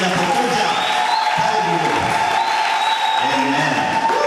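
A church congregation claps in applause during a wedding service, a steady dense wash of hands that holds loud throughout, with voices mixed in underneath.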